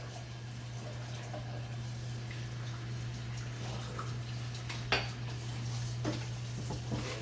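A tap runs steadily at low pressure over a raw turkey being rinsed, with a constant hum underneath, a few light clinks and splashes scattered through.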